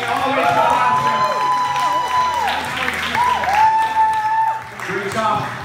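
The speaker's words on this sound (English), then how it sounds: "how about a round of applause for these 4 teams making it all the way to the last year?" A crowd at a VEX robotics middle school championship final claps and cheers, with whoops rising over the steady applause while a voice talks through it.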